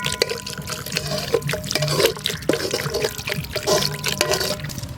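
Drinking water poured into ground masala paste for prawn gravy, a steady splashing pour with light trickling that runs continuously for about five seconds, close and fairly loud, with no talking.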